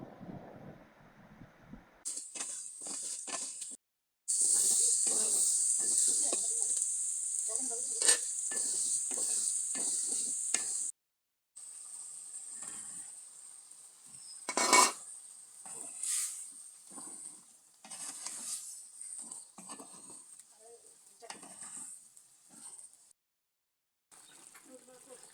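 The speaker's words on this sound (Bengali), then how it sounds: "পেঁয়াজটা কষায়ে মশলাগুলো দিয়ে দিলাম, এটাও ভালোভাবে কষাবো।" Onion and spices being sautéed in a pan for a home-cooked fish curry with potato, pointed gourd and eggplant: bursts of bright sizzling with repeated stirring scrapes, broken by short silent gaps, with faint talk in places.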